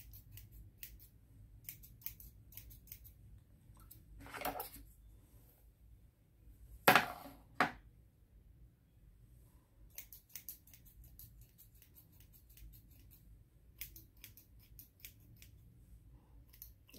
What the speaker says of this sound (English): These are the just regular shears.